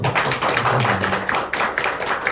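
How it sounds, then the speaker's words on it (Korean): Applause from an audience at a company speaking event, a dense patter of many hands clapping steadily throughout, with a brief low voice murmuring underneath. "그럼 그 대목에서 우리 뜨거운 박수를 한번."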